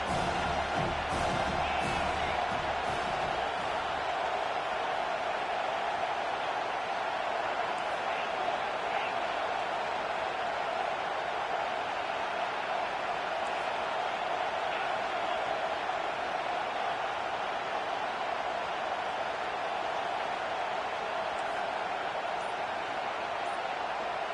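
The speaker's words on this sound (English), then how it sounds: "This crowd knows when to bring it." A football stadium crowd roars continuously as a defense makes a sack near the 20-yard line, a steady loud wash of cheering and noise that holds for the whole stretch, with some heavier rumble at the start.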